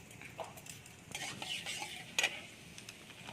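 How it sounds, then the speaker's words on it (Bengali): Nigella seeds and dried chillies tempering in hot oil in a karahi, with a soft sizzle under scraping and stirring clinks from a utensil against the pan, close by. "কালো জিরে শুকনো লঙ্কা ফোড়নটা দিয়ে দিলাম"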